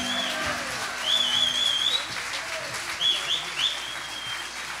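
Loud applause from a studio audience for a singer, with whistles rising above the clapping in bursts; the sustained crowd noise continues for several seconds without pause.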